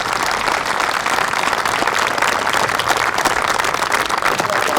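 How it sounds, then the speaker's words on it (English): Outdoor crowd applauding police and fire honor guards at a Veterans Day ceremony in Milton, Massachusetts, a loud sustained wash of clapping that stays even from start to finish. "Please give them a round of applause."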